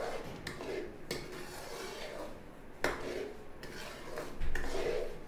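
Semolina and gram flour being stirred and roasted in a pan over a slow flame, with soft scraping and occasional sharp clinks of a spoon against the pan, fairly quiet and close.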